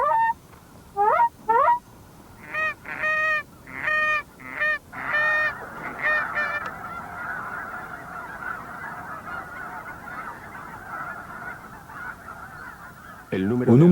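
Geese honking in the Klamath Basin, a burst of loud, repeated calls in quick rhythmic volleys, followed by a steadier chorus of many birds that carries on for several seconds before a final close honk.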